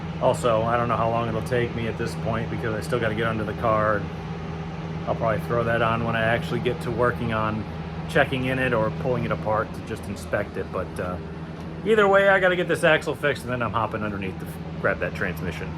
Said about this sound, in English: I got the air conditioning going